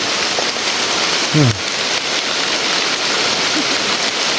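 Heavy rain pours down in a forest, a dense, constant hiss of drops on leaves and ground, with a brief vocal sound briefly heard over the downpour.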